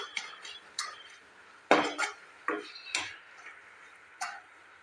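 Coconut and sugar being stirred in a wok over a medium flame, heard as a series of close, sharp metallic scrapes and clinks from a spatula, spaced irregularly with brief quiet gaps between strokes.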